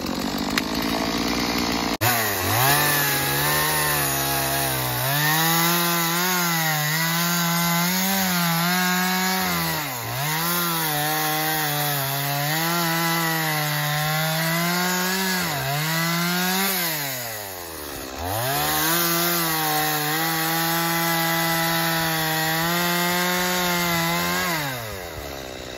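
A chainsaw roars steadily while cutting down through a log, its engine pitch sagging and climbing again as the chain binds in the wood, loud and close with no talking.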